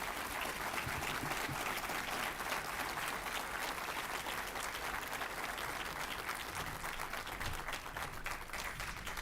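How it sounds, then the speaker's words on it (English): Sustained applause from a large audience at a state chamber of commerce business summit as a senator is welcomed to the stage, steady dense clapping filling the whole stretch with a few faint voices mixed in. "Please give Senator Justice a round of applause."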